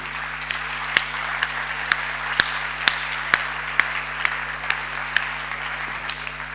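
A round of applause from a conference audience for Danny Rose, a soft steady patter of clapping with a few sharper individual claps standing out at a fairly regular beat, heard over a low electrical hum in the hall.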